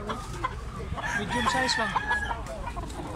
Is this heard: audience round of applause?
no